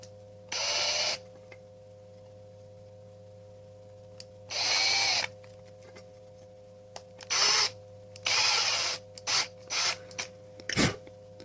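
A drill bores into the plastic shell of a game controller in short separate bursts, the first few longer and the later ones quicker and choppier, close up with a steady hum underneath and no talking.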